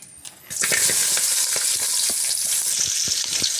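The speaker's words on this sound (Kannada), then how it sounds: "ಈಗ ಇದನ್ನು ಒಂದು ಸ್ವಲ್ಪ ಫ್ರೈ ಮಾಡ್ಕೊಳ್ತೀನಿ ನಾನು." Chopped onion hits hot oil with cloves and cinnamon for a soya masala gravy, bursting into a loud, steady, close sizzle after a brief quiet start, with light clinks of stirring throughout.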